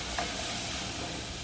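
Onion cooks in melted butter in a preheated pan, giving a dense, even sizzle and hiss for the whole short stretch with one small clink near the start, close and unbroken, with no voices.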